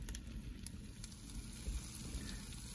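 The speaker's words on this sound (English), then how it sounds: "Right now you can hear the macaroni and cheese sort of sizzling away there." Macaroni and cheese sizzles in an outdoor oven during a severe storm, a steady, crackling hiss with a low rumbling background and no voices.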